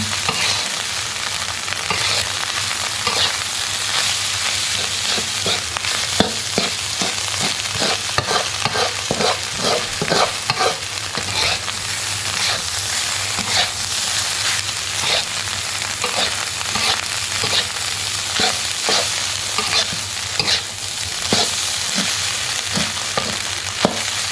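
Bacon and egg fried rice being stir-fried in a pan, a steady close sizzle with continuous scraping and tossing of a spatula, loud and unbroken throughout with no talk.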